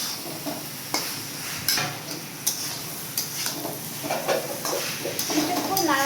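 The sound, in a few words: cauliflower being stirred into fried spice paste in a pan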